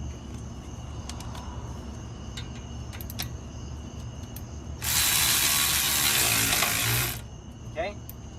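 Ratchet wrench with a number 13 socket tightening the rotor screws on a 9th-generation Honda Accord front brake: a dense, loud burst of rapid clicking lasting about two seconds, following quieter scattered taps and shop background.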